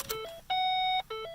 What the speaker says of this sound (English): That was a beep.